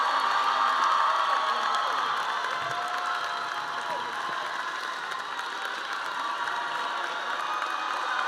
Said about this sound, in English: Let's all stand to our feet and give the class of 2023 a heartfelt round of applause